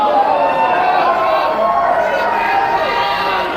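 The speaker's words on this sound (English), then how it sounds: "This is a loud, this is a boisterous, this is a great crowd here at the Colonial Theater." Loud, boisterous wrestling crowd at the Colonial Theater roars steadily throughout, a dense wash of cheering and chatter with no breaks and no clear voice standing out.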